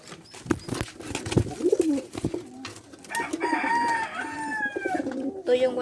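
Pigeons coo in low, throaty bursts close by, with rustling and a brighter chirping call rising toward the end.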